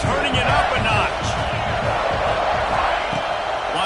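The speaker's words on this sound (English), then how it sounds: "this crowd is turning it up a notch" American football stadium crowd during a second-down drive, a loud continuous roar swelling with whoops and cheers, a commentator talking over it.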